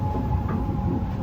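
A Japanese scenic train runs along the Sea of Japan coast between Akita and Aomori, heard from aboard as a steady, loud low rumble of the carriage rolling on the rails, with no voices.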